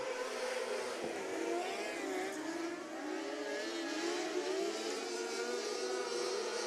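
Micro sprint race cars roar around a dirt track at a county fairgrounds, their engines a continuous, fairly distant droning whine that rises and falls as they circle.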